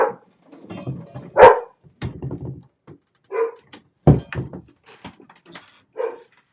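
A puppy barks in short, sharp bursts from nearby, alone and spaced irregularly, reacting to someone walking along the street out front, with soft whimpering sounds between barks.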